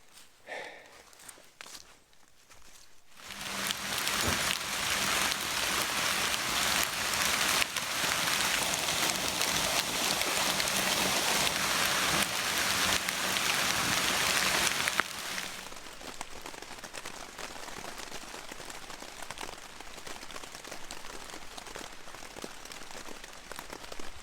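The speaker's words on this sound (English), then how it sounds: "It rained for about an hour as we walked here." Rain falls steadily on hikers walking through Hickory Creek Wilderness, a dense, close hiss that swells loud after a few quiet seconds, then eases to a softer patter with faint footsteps and no talking.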